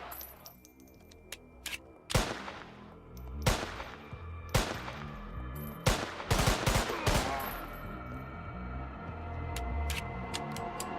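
Gunshots from the PS2 game Don 2: The Game ring out loud and close in uneven bursts, some spaced single reports and a rapid cluster of several shots, over a low game soundtrack.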